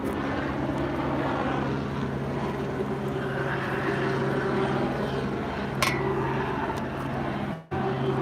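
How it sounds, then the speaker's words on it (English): A news helicopter over a street protest, a low, steady drone overhead, a constant throbbing hum heard from a distance throughout. "There's a news helicopter overhead."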